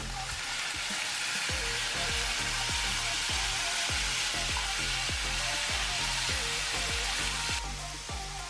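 Okinawan bitter melon stir fry sizzles loudly and steadily in the pan once soy sauce goes in, a dense hiss with a regular series of soft clicks or pops running through it.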